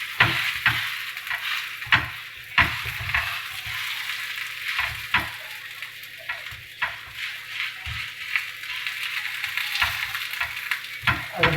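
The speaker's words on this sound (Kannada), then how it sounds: "ಅದ್ರ ಮೇಲೆ ಈಗ ರೊಟ್ಟಿ ಹಾಕ್ತಾರೆ" Multigrain moringa rotti cooks on a hot oiled griddle with a constant close sizzle, broken by frequent scraping and tapping strokes from a spatula.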